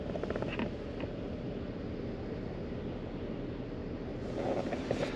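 A BMW 330i E90 with the N53 engine idles with a low, even, steady rumble heard up close for several seconds, with no talk over it.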